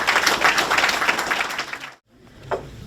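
Audience applause at a church testimony gathering, dense clapping for about two seconds that stops abruptly, followed by a brief quiet room tone with a faint voice.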